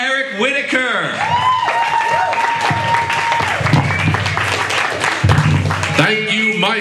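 A comedy club crowd in Rockledge Borough applauds and cheers a comedian's introduction, a steady loud wash of clapping with voices and whoops mixed in throughout.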